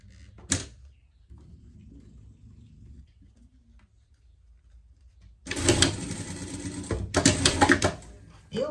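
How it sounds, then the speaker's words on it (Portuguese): A sewing machine stitches through the bow on a pair of doll panties, its motor bursting into a loud, close, rapid run in two spells after a quieter stretch with a sharp click near the start. "A gente vai passar uma costura aqui, ó, no laço mesmo, tá?"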